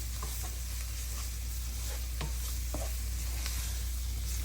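Flour browning in hot grease in a pan for homemade gravy, with a steady low sizzle and a few scattered scrapes and clicks of stirring throughout.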